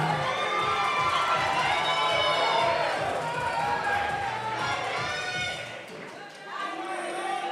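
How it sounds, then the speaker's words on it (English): Crowd at a fitness competition qualifier cheering and shouting loudly and steadily throughout, with an announcer's voice running over the noise before it eases slightly near the end. "This crowd is hype."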